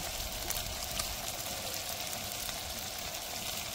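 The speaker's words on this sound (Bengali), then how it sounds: "এবার একটু আমরা নাড়িয়ে নেব।" Fried potatoes sizzling in spices in a hot pan for a kuche fish dish, a continuous close frying hiss with faint stirring and no voices.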